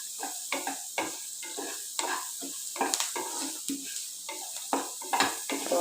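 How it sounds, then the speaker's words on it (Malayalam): Chopped tomatoes stirred into onions frying in a pan make repeated scraping and clinking strokes of a utensil against the pan over a light sizzle, close and fairly quiet, with no talking. "ഒരു 2 തക്കാളി ചെറുതാക്കി അരിഞ്ഞിട്ടുള്ളത് അതിൽ ചേർക്കാം."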